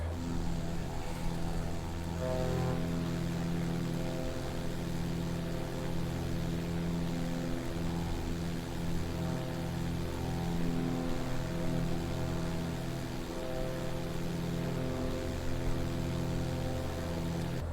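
Beechcraft Sierra BE24 single-engine propeller plane in Microsoft Flight Simulator 2020, heard from outside: a steady, loud droning engine with layered harmonic hum and slight fluctuations, continuous throughout with no talk.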